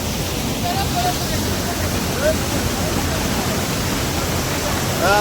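Sai waterfall near Karnala fort pours with a steady, dense roar of falling water, constant and fairly loud, with faint voices in the background.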